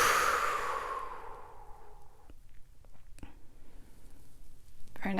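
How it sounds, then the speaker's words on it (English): A deep, breathy exhale during a guided breathing practice starts loud and close, then fades away over about two seconds, followed by quiet room sound and a few faint soft knocks. "Exhale out."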